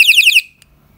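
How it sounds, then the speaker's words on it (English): An alarm torch lets out a shrill, rapidly warbling electronic siren for under half a second, then stops abruptly, leaving near silence with one faint click. "we can demonstrate the alarm"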